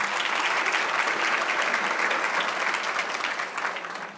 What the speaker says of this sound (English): Please give a warm round of applause for her.